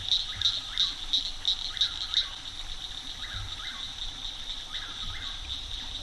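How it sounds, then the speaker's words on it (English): Nighttime chorus of repeated frog calls in a steady rhythm over a constant high insect drone, with soft chirps mixed in, all moderately distant. "Frogs, the bugs, and the birds."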